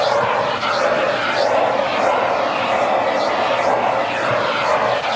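A 2017 Dyson Light Ball Multi Floor upright vacuum cleaner runs continuously on a UK staircase landing, a loud, steady whooshing motor roar with slight rhythmic swells and no pauses.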